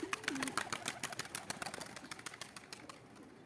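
Pigeons coo in a backyard coop, a faint rapid run of soft pulsing calls that tapers off after a couple of seconds.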